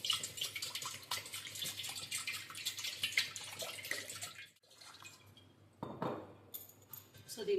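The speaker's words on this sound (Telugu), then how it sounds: "వాటర్ వేసుకుంటా, స్టీమ్ కోసమే జస్ట్." Water pours and splashes into a pot set up for steaming in a home kitchen, a fairly soft, continuous stream that breaks off, followed by a clink of metal.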